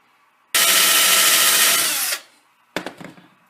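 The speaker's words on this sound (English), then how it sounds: "I'm going to drill them through just because it's easier and it'll give me better chip clearance" A power drill with a short 3.5mm tap drill bores a hole in metal for a steady rest, a loud continuous whine lasting over a second and a half that tapers off, followed by brief clattering tool handling.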